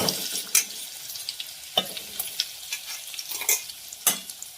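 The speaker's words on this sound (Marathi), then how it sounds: "तेल तापले, जिरे आणि ना आपण मिश्रण जे बारीक केलेलं ते टाकलं" A finely ground spice paste and cumin seeds fry in hot oil with a soft, crackling sizzle, punctuated by a few sharp stirring scrapes against the pan, close and fairly quiet.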